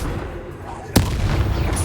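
Bombarda blast from a spell cast in Hogwarts Legacy, a single sharp explosive crack striking suddenly midway, followed by a rumbling low tail over steady game background noise.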